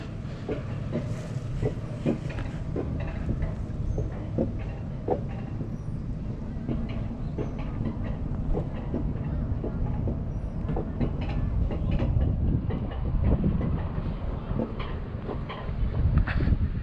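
The wheels of an alpine coaster car on the Mineshaft Coaster rumble along its rails in a steady, continuous roll with faint rhythmic clicks. The noise is loud and close throughout.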